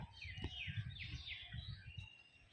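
A male Abloke pigeon calls nearby, with soft low cooing pulses under a few brighter chirping notes in a quiet setting.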